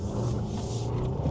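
Hyundai hybrid car with a 6-speed dual-clutch accelerating hard in sport mode, a steady, close engine and road rumble rising in intensity over a brief stretch, no speech.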